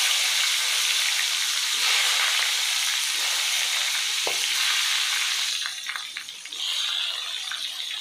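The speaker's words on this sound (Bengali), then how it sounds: "ভেজে নিচ্ছি বেগুনগুলো" Eggplant slices frying in hot oil in a pan for a Bengali New Year thali, a steady broadband sizzle throughout with a few faint clinks near the end, no voices.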